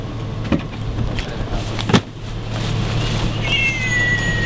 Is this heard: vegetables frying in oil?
no